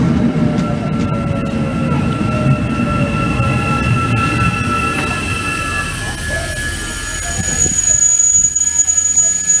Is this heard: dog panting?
no